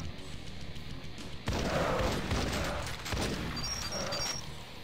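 Shotgun blasts against zombies in an arcade video game, a few heavy booming shots over a constant game background hum, with faint electronic beeps near the end.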